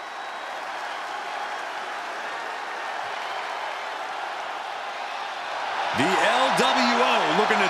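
A steady crowd roar fills a wrestling arena in the WWE 2K24 video game, rising slightly near the end as a voice begins speaking over it.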